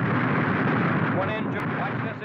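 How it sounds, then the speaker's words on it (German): A rocket launcher explosion during a wartime bombing raid on Emden rumbles as a dense, sustained roar, heavy in the low end and fading slightly toward the end. "Diese Explosion, das war ein Raketenwerfer."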